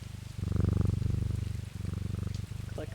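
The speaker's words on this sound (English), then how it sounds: "Pet Jupiter." Jupiter the cat in Strange Antiquities purrs while being petted, a close, steady rumbling purr pulsing in long waves with brief pauses between breaths.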